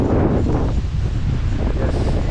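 Strong wind buffets the microphone in a steady, low rumbling roar, with faint rustling, throughout, on a headland between the sea and a backwater where fishing nets are set.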